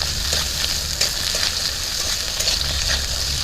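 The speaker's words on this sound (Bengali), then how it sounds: "আলু আর গাজর একসঙ্গে ভেজে নিচ্ছে।" Potatoes, carrots and green chilli frying in a pan, a steady close sizzle with faint stirring scrapes and light clicks throughout, no voices.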